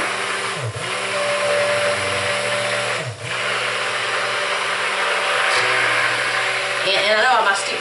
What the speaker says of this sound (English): I know my stick blender keeps cutting off